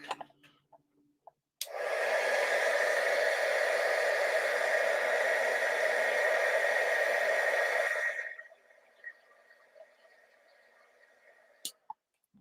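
A heat tool blows a steady, loud whooshing stream of hot air for about six seconds to melt embossing powder on a craft sheet, then switches off, followed by a few soft clicks and handling noises.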